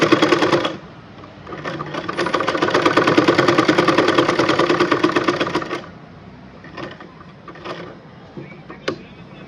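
A sewing machine runs a long steady burst of rapid rhythmic stitching on a half collar, loud and close, then stops, leaving scattered clicks and handling sounds with a voice speaking softly.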